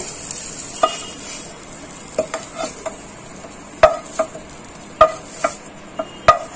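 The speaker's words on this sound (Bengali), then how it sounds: "পাতাগুলো ভাজা ভাজা হয়ে গেছে" Ghatkol leaves fry in a pan as a low, soft sizzle runs underneath sharp, scattered scrapes and taps of a spatula stirring against the metal, heard close with no voices.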